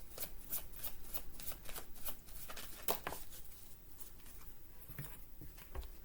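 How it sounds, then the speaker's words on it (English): Oracle cards being shuffled close up, a steady run of crisp riffling flicks and soft slaps that continues for several seconds with only brief pauses, no voices. "we're also going to pull a couple more cards"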